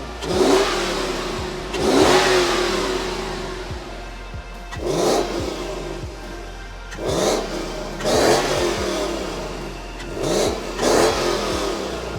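A pickup truck (bakkie) engine revs while driving, rising in repeated surges about every two to three seconds with gear-change dips between, close and loud with no talk.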